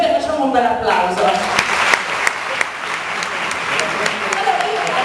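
An audience claps steadily at an awards ceremony for women, with dense applause throughout and voices audible over it at the start and end.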